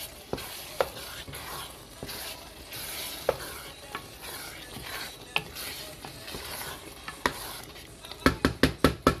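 Bolognese sauce being stirred in a pan, a quiet simmering sizzle with scraping spoon strokes that end in a quick series of sharp taps.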